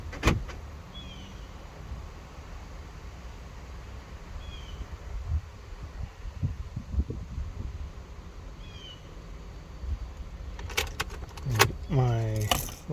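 Ford F250 key blanks jangle in short, faint metallic bursts near the end, with quieter handling noises and a soft background hum throughout.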